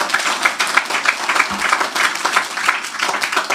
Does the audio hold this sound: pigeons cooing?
no